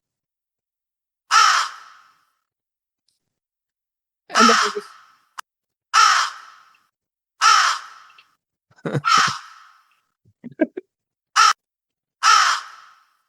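A crow caws repeatedly, loud and close, in evenly spaced harsh calls separated by silence, with a few brief clicks and a quick spoken phrase.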